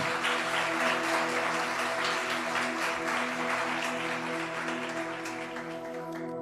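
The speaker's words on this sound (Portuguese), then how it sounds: "Vamos dar um aplauso a Jesus nessa noite?" Church congregation applauding during an evening worship service in Lisbon, a dense wash of clapping that holds steady over sustained organ or keyboard chords, tapering slightly toward the end.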